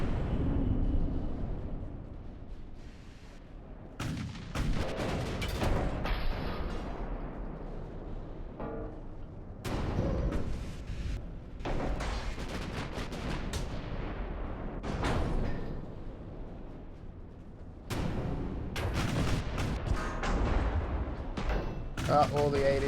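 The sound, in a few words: naval artillery guns firing in video game Ultimate Admiral: Dreadnoughts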